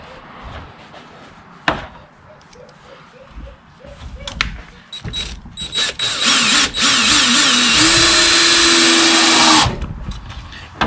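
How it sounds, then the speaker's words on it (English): A power drill bores into a clock being turned into a bonsai pot, with a rising whine and rough grinding for about two seconds, loud and close, after a few light knocks and taps. "So now we're gonna go ahead and drill."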